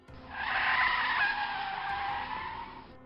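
A van brakes hard and skids as a story sound effect. One sustained tire screech rises quickly, holds loud and steady for about two and a half seconds, then cuts off abruptly. No voices.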